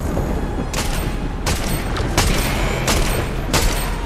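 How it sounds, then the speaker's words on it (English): A DMR rifle fires in Fortnite as several spaced, booming shots with slow gaps between them, over a dense, loud background of game noise. "that's a DMR that he has. That's why he's shooting so slow."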